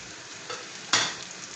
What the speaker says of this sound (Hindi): 30 से 40 सेकंड हम इसको यहाँ पे भूनेंगे